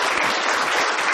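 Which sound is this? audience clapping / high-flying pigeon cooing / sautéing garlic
audience clapping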